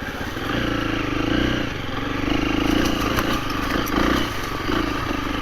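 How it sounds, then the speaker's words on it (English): A 2024 KTM 350 EXC-F dirt bike fitted with a 13-tooth sprocket cruises in second gear on single track, its four-stroke engine droning steadily with gentle rises and dips in throttle, loud and close, with no talk. "I'm just putting in second, cruising along"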